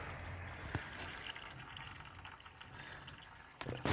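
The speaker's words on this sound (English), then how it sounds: "There's only a little bit in there, so it's not going to take long to drain out." Engine oil drains from a Lexmoto ZSB motorcycle in a thin, steady trickling stream close by, with a brief clink and a bump near the end.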